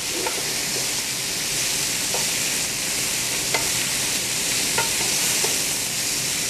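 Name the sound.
peppers, onions and venison sizzling in a pan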